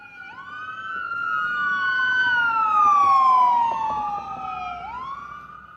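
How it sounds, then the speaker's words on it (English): An ambulance siren wails past, its pitch sliding up then gradually down as it draws near and moves away, loud over low traffic rumble. "we're gonna stop because the ambulance is going by."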